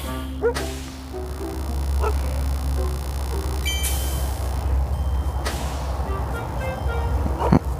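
Dog barking inside the mobile stealth game Robbery Bob 2, a few short sharp yips over a steady low engine-like drone, with game beeps and effects around them.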